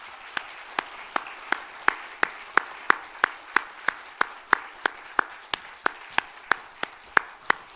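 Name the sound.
church congregation applause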